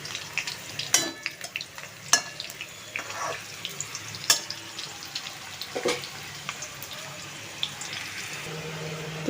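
Potatoes frying in a generous amount of oil in a home kitchen, with a steady low sizzle broken by sharp clatters and scrapes of utensils against the pan, close and fairly loud.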